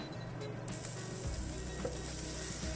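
Peppers frying in a pan over medium heat, a steady close sizzle with a soft crackle that holds evenly throughout, no voices.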